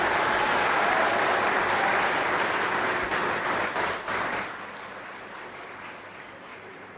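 A school audience applauds loudly after an arts performance by first-to-sixth-grade pupils, with a thick wash of many hands clapping that thins and fades toward the end.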